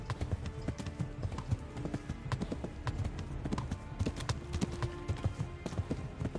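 Galloping horse in Kingdom Come: Deliverance, a steady run of hoof clip-clops thudding close and loud throughout, with busy game sound beneath.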